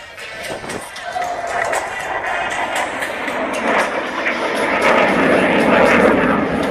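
An F-16 Falcon fighter jet roars past at an airshow, a loud, sustained jet rush that swells steadily as it flies through a roll, with no voices over it.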